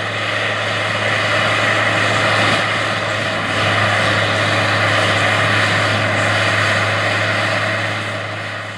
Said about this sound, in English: The first stop of the day started out with this 1999 Case IH 9380 QUADTRAC tractor